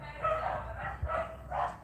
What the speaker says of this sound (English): Because there's dogs barking over there, Bella might come running out.